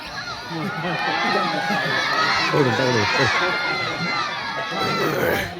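A crowd of quiz-show participants in a lively Marathi game-show setting shout out an answer together, loud overlapping voices and excited calls filling the whole stretch close by.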